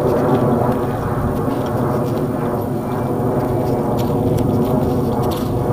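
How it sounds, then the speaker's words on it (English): Steady low rumbling drone of an airplane passing overhead, continuous and fairly loud throughout, with faint rustling outdoors in the woods. "there's an airplane flying over"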